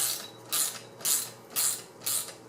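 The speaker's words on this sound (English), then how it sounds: "You'll have the through ratchet and the other ratchet, and that's it, just like so." A ratchet loosening the top hat nut on a Scirocco 16V front end gives four evenly spaced bursts of rapid clicking, close and clear, with quiet gaps between strokes.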